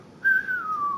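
Whistled melody from the Red Dead Redemption 2 video game soundtrack: a single clear, sustained tone that starts after a brief pause, holds steady, then slowly glides downward, fairly loud and alone.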